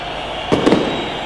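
Fireworks bursting at a crowded outdoor New Year's Eve 1999 millennium celebration, a brief cluster of two or three close pops and crackles over a steady crowd murmur.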